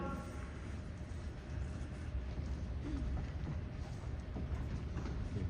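A train sound effect played during a school stage production of a play, a continuous rumbling, clattering rail noise that builds slightly in loudness, with faint voices underneath.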